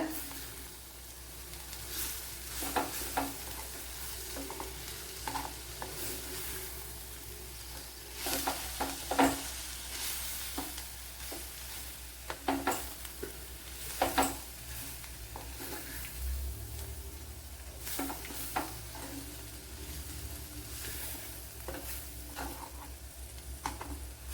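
Cabbage stir-fries in a pan with a continuous sizzle broken by repeated scraping and stirring strokes and occasional louder clatters, going on steadily without speech.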